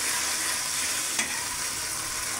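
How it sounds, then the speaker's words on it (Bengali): Onion paste and bay leaves frying in a pan while being stirred, a steady close sizzle with a single sharp scrape of the spoon midway. "ভালো মতো নেড়ে চেড়ে নিতেছে।"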